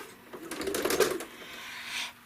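Home sewing machine stitching in the ditch on a quilt, a brief close run of rapid mechanical needle clatter rising and easing off, with a soft hiss trailing after.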